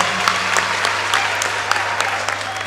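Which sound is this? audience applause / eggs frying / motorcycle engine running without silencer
audience applause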